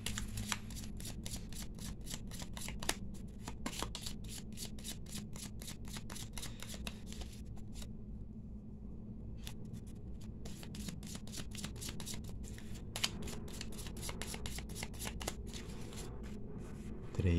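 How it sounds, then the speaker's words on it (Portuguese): A Cigano fortune-telling card deck is shuffled by hand in a long run of quiet, rapid papery riffles and flicks, faint and close, with no speech. "Eu vou colocar 4 cartas do baralho cigano."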